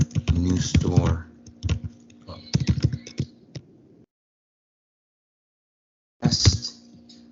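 Store name being typed on a computer keyboard: close, crisp clusters of key clicks in quick bursts, a pause of silence, then another short flurry of typing, with someone speaking briefly in between.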